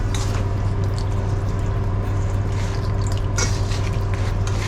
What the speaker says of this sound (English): Then the condensed milk or evaporated milk. So just pour that in.